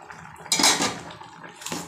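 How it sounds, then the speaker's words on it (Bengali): Water poured into a cooking pot of thick, overcooked curry, a short splashing pour that swells loudly for a moment, then eases off before a second brief splash near the end, close by in a home kitchen. "এখন দিয়ে দেব জল"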